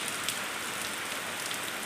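Heavy rain pours down steadily, a dense, continuous hiss of drops on surfaces filling the whole stretch with no voices.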